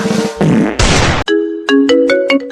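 A phone ringtone at home, a loud electronic melody of bright chiming tones in a short repeating pattern, heard alone and close by.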